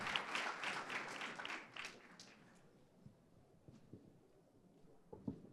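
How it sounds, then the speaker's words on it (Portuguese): Applause from a finance-talk audience in Brazil, moderately loud at first and then thinning out into scattered claps and room noise over the remaining seconds. "Vale palmas também? Vale palmas."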